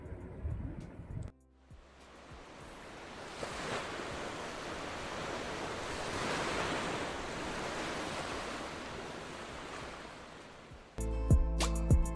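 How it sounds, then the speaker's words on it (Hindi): Strong Arabian Sea surf rolls in at Dwarka, a broad steady wash of breaking waves that swells and holds for most of the stretch, with brief louder handling noise near the end. "वो देखिए तेज़ लहरें आ रही हैं वहाँ पे।"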